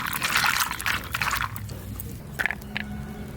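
Lentil and soybean nuggets (bori) are swished and rinsed in water. Loud, close sloshing and squishing gives way to quieter dripping with a couple of small splashes.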